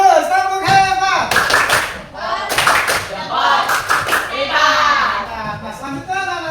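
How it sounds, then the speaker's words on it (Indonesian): Schoolchildren in a classroom perform a chanted clapping routine, bursts of sharp group claps alternating with children's sung chanting voices in a rhythmic call pattern. "Bagus, tepuk hebat."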